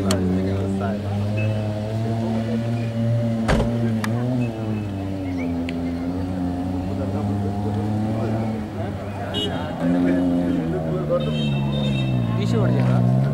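A dirt track race car engine idles and revs steadily at a trials event in Thirthahalli, loud and close, with people talking over it and a few sharp knocks.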